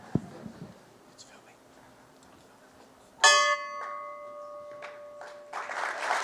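A bell rings out at a fire service recognition ceremony, one sharp struck tone with a long sustained ring, followed later by applause and a voice speaking French.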